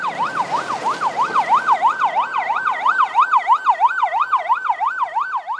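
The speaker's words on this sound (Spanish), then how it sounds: "La ambulancia traslada los cuerpos" An ambulance siren wails continuously, rising and falling in a fast, steady cycle, loud and close throughout.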